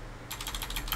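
Quick run of keystrokes on a computer keyboard, several crisp taps in rapid succession, faint and alone while entering a terminal command.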